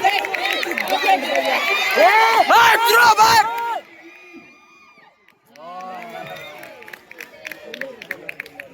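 Spectators at a local TPL cricket match between Kshatriya and Mrutyunjay, cheering and shouting loudly in a surge that drops off abruptly, then a few scattered shouts and calls come back more faintly.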